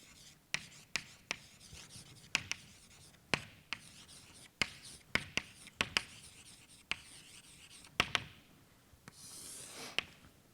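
Chalk or marker taps and scratches across a lecture board as an equation is written out, a series of sharp close clicks and short strokes with brief scraping passages, quiet between marks and no speech.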